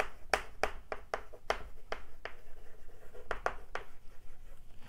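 Chalk tapping and scraping across a board in a physics lecture on the Biot-Savart law, a run of sharp irregular knocks and short strokes, fairly close and distinct over a quiet room.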